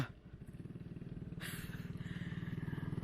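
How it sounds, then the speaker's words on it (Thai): A small water-pump engine fitted onto a bicycle runs nearby, a rapid, even putt-putt pulsing that steadies and grows slightly louder, with a brief hissy noise partway through. "เอาจักรยานมาใส่เครื่องสูบน้ำครับ"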